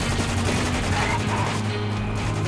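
Sniper fire and other gunfire from the war shooter Spec Ops: The Line roll as a dense, loud, continuous volley, with heavy low rumble running throughout.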